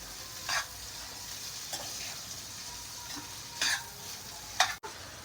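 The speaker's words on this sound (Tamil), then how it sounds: "அந்த உருளைக்கிழங்கே ஆட் பண்ணிக்கிட்டு நல்லா வதக்கிக்கலாம்." Mashed boiled potatoes being stirred and sautéed in a pan for poori masala, a Tamil potato side dish; a quiet, steady sizzle runs throughout, with a few soft scraping stirs standing out at intervals.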